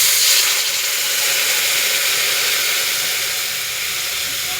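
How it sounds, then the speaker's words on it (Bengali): Lemon water hits a hot pan and sets off a loud, steady sizzling hiss that holds evenly for several seconds and eases off slightly near the end. "এবার আমি সেই লেবু জলটা এতে অ্যাড করলাম"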